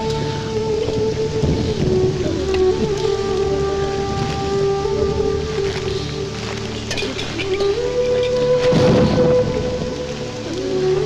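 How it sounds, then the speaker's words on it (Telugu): Heavy rain pours steadily with low thunder rumbling beneath, a dense continuous wash that swells louder toward the end, heard alongside a sustained musical tone from a film soundtrack. "ఇప్పుడు అర్ధంతరగా ఈ వర్షం పట్టుకుంది."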